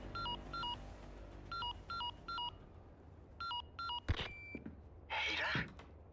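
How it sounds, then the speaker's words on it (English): Phone keypad tones in the Resident Evil 4 Remake video game: a series of short beeping dial presses in uneven clusters, followed by a click and a brief burst of static. "Make a phone call."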